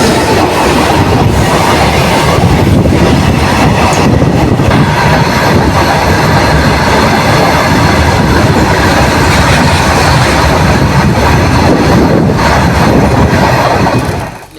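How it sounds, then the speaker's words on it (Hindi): The Shaktinagar–Varanasi MEMU intercity express pulls out of Lusa railway station after a goods train crossing, a loud, close, continuous roar of wheels and carriages with steady clattering that holds throughout. "1 मिनट होल्ड के और गुड्स ट्रेन के क्रॉसिंग के बाद निकल चुके अपनी लूसा रेलवे स्टेशन से।"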